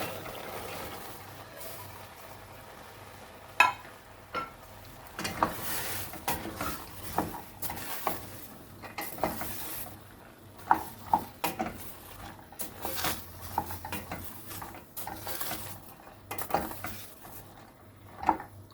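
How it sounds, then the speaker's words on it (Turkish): Fresh borlotti beans are tipped into a pot with tomato and stirred, giving irregular close clinks, scrapes and knocks of a utensil against the pot over a quiet background. "Şimdi fasulyemizi ilave ediyoruz."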